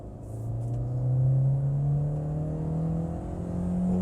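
A VW Saveiro Extreme pickup's engine pulls hard in second gear, its droning note climbing steadily as revs build, close and continuous with no voices.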